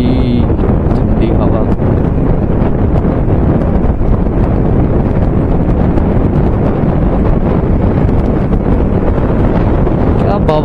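Wind roars hard and constantly across the microphone of a rider on a motorcycle moving at speed through traffic, a loud, unbroken buffeting rush that drowns out any other sound.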